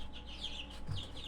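A farm chicken clucking faintly and close by in a small backyard flock, a few soft clucks over a steady low background hum, no voices.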